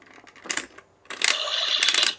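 A DX Hebot toy screw turned by hand, giving a quick burst of clicks, a pause, then a longer stretch of dense ratcheting clicks close up.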